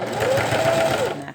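A sewing machine stitches seam allowances open around a curved neckline while a shaped facing is applied, running as a steady, close, continuous whir that stops near the end.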